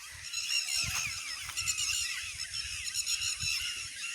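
Migratory water birds on open water call in a dense, continuous chorus of honking, goose-like cries, steady throughout and fairly distant, with no talk over it.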